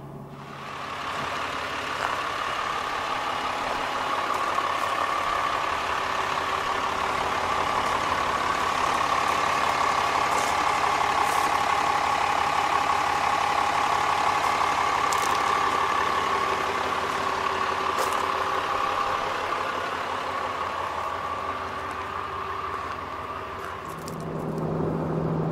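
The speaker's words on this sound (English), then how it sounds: "Let's go outside, give you a listen to that motor out there." A new Ram 3500 pickup's engine idles outdoors in a steady, even mid-pitched drone that holds for about twenty-five seconds. A few faint ticks sound over it, with no talking.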